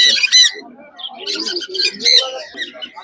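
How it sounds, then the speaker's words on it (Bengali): Green parrotlets at a busy pet bird market in Serampore call in repeated shrill chirps and squawks, close and fairly loud, with voices talking underneath. "এখানেও সব গ্রিন প্যারোলেট আছে"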